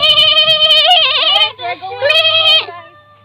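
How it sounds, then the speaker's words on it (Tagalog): A goat bleats several times in quick succession, loud and close, with wavering cries and short breaks between them, while children's voices are faint in the background. "Yes, there's a goat, guys."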